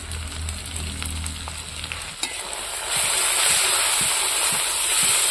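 A paste of ground chili, cumin and coriander fries in a pan, stirred with scraping strokes at first, then a sharp hit is followed by a louder, brighter hissing sizzle that carries on to the end, close and with no voices.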